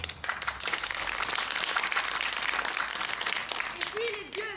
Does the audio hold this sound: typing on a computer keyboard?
no